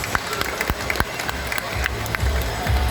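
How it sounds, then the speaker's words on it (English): A crowd at the Miss Sandugo Queen 2019 pageant applauds, with scattered sharp claps over a noisy hall murmur lasting the whole stretch, some voices mixed in. "So let's give them a round of applause."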